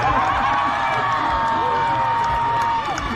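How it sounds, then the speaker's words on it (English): A crowd at a pig race on a pumpkin farm whoops and cheers for a racing pig named Bob, a dense, lively roar with shouts rising over it. "Let's have a great big cheer for Bob."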